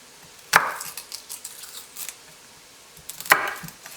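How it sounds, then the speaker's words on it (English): Two sharp knife chops on garlic on a cutting board, spaced about three seconds apart, with quieter small taps between them, close and clear with no talking. "I will keep chopping"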